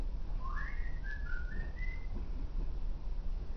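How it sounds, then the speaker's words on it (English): Someone whistles a short, lilting melody of a few gliding notes over steady background noise, then it trails off into the noise. "whistling a happy tune"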